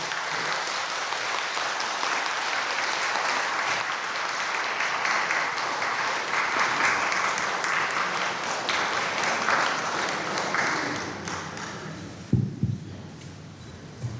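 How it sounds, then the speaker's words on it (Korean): Sustained applause from a parish congregation at a Seoul Catholic church, welcoming a priest before a Lenten lecture; dense, steady clapping for about twelve seconds, then tapering off into a few scattered claps and a thump. "멋진 방종우 야고보 신부님을 박수로 모시도록 하겠습니다"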